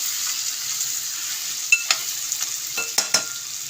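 Gentle stirring of urad dal vadiyalu frying in a pan, a steady high sizzle with a few soft scraping clicks near the end.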